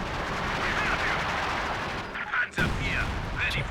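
Battlefield gunfire and artillery booms rumble in a Company of Heroes 2 match, with a dense, continuous barrage that breaks off briefly into a sharp blast. Game effects overlap behind it.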